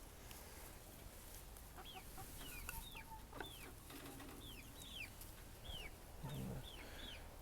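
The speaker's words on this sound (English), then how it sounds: "we gotta let all these little chickens out" Backyard chickens clucking and chirping softly at their coop, several short rising calls scattered over the recording, quiet and somewhat distant against a low background hum.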